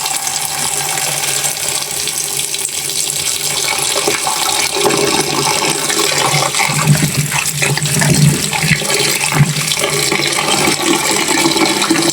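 Sliced pumpkin is washed under a running kitchen tap, with a steady close stream of water splashing and gurgling in the sink throughout.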